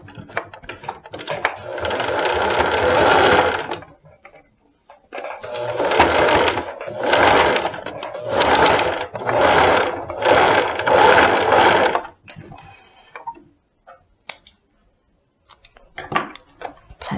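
A sewing machine stitches the side of a trouser waistband seam during an alteration, running in several loud bursts of rapid mechanical whirring separated by short pauses, then trailing off into a few faint clicks.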